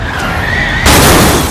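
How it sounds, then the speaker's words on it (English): Tyres skid and screech as a car in BeamNG slams on its brakes ahead of an oncoming semi-truck, a sustained harsh noise that swells loud and broad partway through. "Ethan slammed on his brakes"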